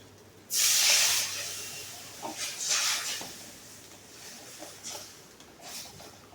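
Water hits a hot pan of fried spices with a sudden loud hiss that fades into softer, intermittent sizzling bursts, nearby and alone.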